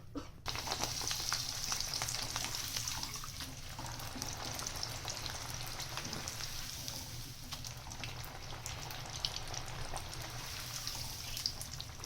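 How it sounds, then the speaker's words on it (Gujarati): Cutlets frying in hot oil for a wedding-style recipe, a continuous even sizzle that holds steady with no talking. "હવે આ જ રીતે આપણે બધી કટલેસ તળી લેશું."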